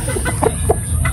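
Sweater breed gamefowl pullet clucking, a few quick close soft clucks in a brief burst over background noise, no talk.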